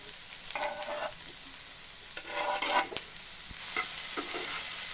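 Onion and potato pieces stir-fry in a pan with a steady sizzle, punctuated by scraping bursts of stirring at regular intervals; no one speaks.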